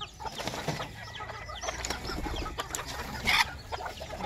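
Bantam chickens cluck and chatter in a loose, busy flock during feeding in the countryside, with a brief sharper squawk near the end and faint rustling around them.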